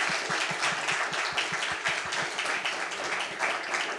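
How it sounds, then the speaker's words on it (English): Audience applause for two speakers at the close of a policy event, a steady wash of clapping that holds evenly for the full stretch at moderate loudness, with no voices over it. "Let's give them a round of applause."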